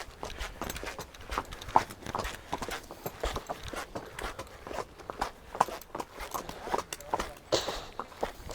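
Steady clip-clop of a large horse's hooves on a hard road surface, an even walking rhythm continuing throughout with light background noise.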